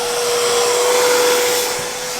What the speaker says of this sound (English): Vacuum it first, real good.